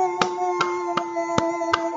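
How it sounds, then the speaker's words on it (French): A church congregation claps in unison, with five sharp, evenly spaced claps ringing out over a sustained tone. "Applaudissez maintenant pour le Seigneur,"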